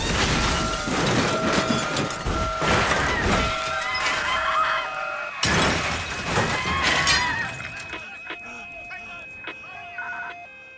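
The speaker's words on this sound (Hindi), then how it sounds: "रवि, ये ट्रेन रुकेगी नहीं।" A dramatised train crash sound effect for the 2011 Jaipur train accident, with loud, dense bursts of shattering and smashing, a sudden cut, then further clattering debris and a long ringing tone fading out.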